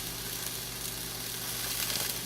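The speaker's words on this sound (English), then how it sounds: "we're going to sear them off on both sides." Marinated tuna steaks searing in a hot pan, a steady close crackling sizzle with no talk.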